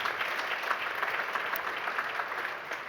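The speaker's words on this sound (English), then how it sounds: "A great round of applause, please." An audience at a finance conference panel gives a round of applause, steady even clapping heard alone at moderate distance for a few seconds.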